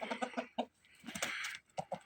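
A rooster clucks close by in quick rhythmic bursts, with a longer throaty call in the middle followed by a few more short clucks, and no talking.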